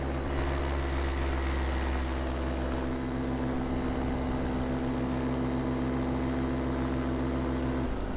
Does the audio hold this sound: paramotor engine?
yes